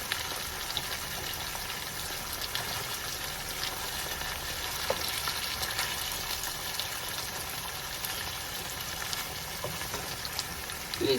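Sliced onions fry with fish in a pan for bitter leaf stew, a continuous crackling sizzle at steady loudness with faint scraping of stirring.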